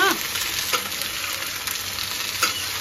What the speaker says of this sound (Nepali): अब यसमा भिन्डी हालिसकेपछि यसलाई मस्त चलाएर मस्त पाक्ने जेलसम्म फ्राई गर्नुपर्छ।